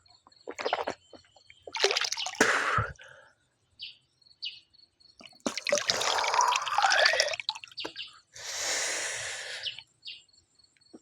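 Water drips and splashes in irregular bursts while someone bathes under a rock overhang, with short gaps of quiet between the splashes.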